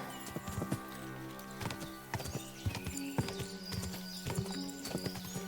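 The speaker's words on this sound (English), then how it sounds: "Alright, let's get the horse." Hooves clip-clop in a steady galloping rhythm as a horse runs in a video game, with an occasional neigh over the close, even beat.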